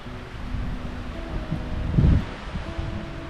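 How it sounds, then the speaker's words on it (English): Gusts of wind rustle through trees in the Tobeatic Wilderness Area, Nova Scotia, in October, with low buffeting rumbles swelling and fading; no voices. "Windy day in the woods."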